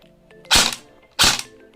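A Double Bell M4A1 electric BB gun with an ABS plastic body fires in semi-auto mode, giving two sharp, close cracks about two-thirds of a second apart, with no talking.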